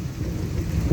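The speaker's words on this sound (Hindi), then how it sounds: "थोड़ी स्पीड कम हुई है बारिश की, लेकिन लगातार लगी है जी" Heavy storm rain pours down steadily on a road, a dense, loud roar of rainfall with low rumbling, close and continuous with no talking.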